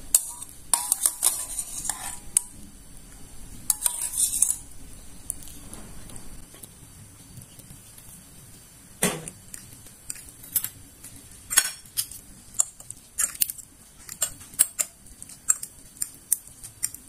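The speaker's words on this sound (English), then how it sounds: "Mix the noodle with the seasoning on a plate. Stir until evenly distributed." Fried instant noodles stirred with seasoning on a plate, scattered clinks and scrapes of utensil against the dish coming in irregular bursts, fairly close and quiet, with no talking.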